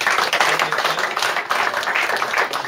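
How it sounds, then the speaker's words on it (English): Audience applause at a doubles tournament, a steady dense wash of many hands clapping with no break, moderately loud and even throughout. "So round of applause for everybody."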